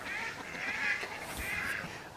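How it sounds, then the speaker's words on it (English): Male ducks calling near hens and ducklings, with a run of raspy, nasal quacks and honks that rise and fall over a couple of seconds, fairly close and fairly loud against a steady outdoor background. "those drakes are obnoxious"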